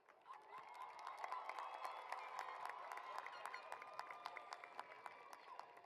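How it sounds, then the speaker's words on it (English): A graduation crowd applauds and cheers at a high school ceremony, a steady wash of clapping with scattered sharper claps, heard from some distance and fairly faint. "A round of applause,"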